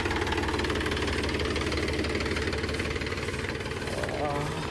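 A tractor engine runs steadily in a farm field where straw is being baled, a continuous mid-pitched idling rumble with some knocking, fairly close and loud throughout, with speech likely mixed in.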